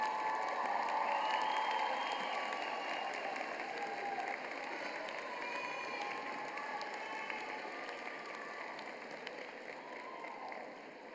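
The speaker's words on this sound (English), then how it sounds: "You can clap." Commencement crowd in a large outdoor amphitheater at a college graduation, giving sustained applause with scattered cheers that holds steady and slowly fades over about eleven seconds, heard from a distance.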